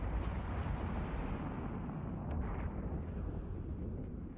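Ship weapons fire during a combat mission in the space game Eve Online, a continuous low rumbling roar of blasts and explosions with a few faint pops, dense and muffled, with no talk.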